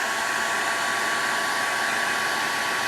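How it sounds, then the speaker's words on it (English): Hair dryer running steadily at close range, drying a paper craft Mickey Mouse hat; a loud, constant airy whoosh with no breaks and no talk. "I'm going to go ahead and hit this with my dryer real quick."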